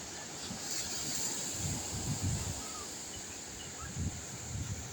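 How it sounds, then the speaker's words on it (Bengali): Sea waves wash against the shore beside a seaside amusement park in Kuwait, a low rolling surge with a few stronger swells under constant wind noise on the microphone, and no one speaking. "পাশে সমুদ্র"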